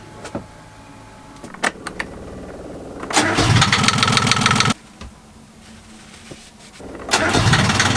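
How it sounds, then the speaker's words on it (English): A boat's inboard engine, just given fresh oil and a new oil filter, cranks with short bursts and catches, running loud and close for a couple of seconds, then cranks again and fires back up. "So this is going to be the good running of the engine to see how it's going to go."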